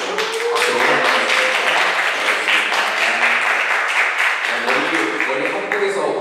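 A church congregation claps to welcome a newcomer, a sustained burst of many hands close by, with a few sharper individual claps standing out and a faint held tone underneath.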